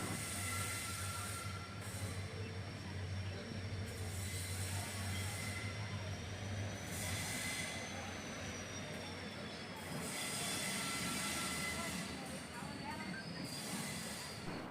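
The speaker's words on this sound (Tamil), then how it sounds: "நம்ம வண்டி மதுரை ஜங்ஷன்லேருந்து கிளம்பிடுச்சு" Guruvayur Express running after leaving Madurai Junction, heard from inside the coach as a steady rumble with rail hiss and wheel noise, swelling and easing in waves, with faint voices.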